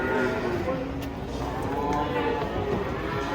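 Large cattle low in long, wavering moos close by while being unloaded from a truck, with background chatter and general crowd noise underneath.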